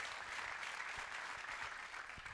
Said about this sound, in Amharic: እስቲ አጨብጭቡልኝ ለጌታ